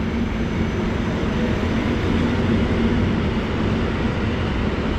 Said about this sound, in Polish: Pociąg Wanda